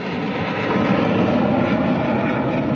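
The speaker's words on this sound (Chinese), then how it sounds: "挂到北国旗的契努克军用运输直升机是飞过总统府的天顶" A Chinook military transport helicopter carrying the national flag flies over the Presidential Office during a National Day rehearsal, giving a loud, steady, broadband rotor-and-engine roar that fills the whole stretch with no voices.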